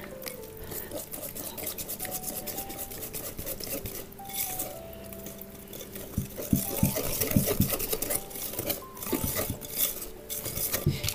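A spoon scrapes and clinks around a bowl while orange or lemon cake batter is stirred, with a steady run of small tapping and scraping sounds at moderate volume and no talk.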